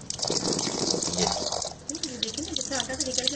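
Tap water gushes and splashes while flour dough is rinsed by hand, a steady close rush that thins out partway through, with a voice talking over the later part.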